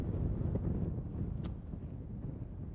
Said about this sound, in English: That wind is just really stiff out here.